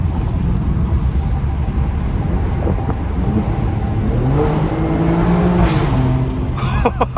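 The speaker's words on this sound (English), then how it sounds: "Every time you see a tunnel, gotta hear the exhaust note." A 2022 Alfa Romeo Stelvio Quadrifoglio's engine drones steadily and loud in a tunnel, with rising rev sweeps toward the end, sounding enclosed and echoing.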